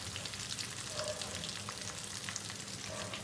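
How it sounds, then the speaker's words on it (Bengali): Bengali fish chops (macher chop) frying in hot oil in a small kadai, a dense, steady sizzle and crackle heard close up without any voices. "দিয়ে এগুলো ফ্রাই করে তুলে নেবো ভালো করে।"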